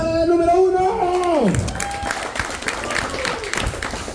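A studio audience at a family party game applauds and cheers for the first contestant, with clapping and whoops rising right after a host's short shouted line.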